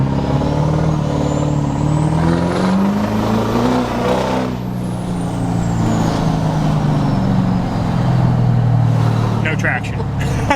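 A twin-turbo pickup truck with a manual gearbox spins its tires in a burnout, engine roaring and rising in pitch, then dropping before revving again, loud and close with people talking over it.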